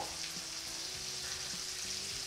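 Broccoli and sea bream fry in olive oil in a pan, making a steady, soft, continuous sizzle with faint stirring clinks over it.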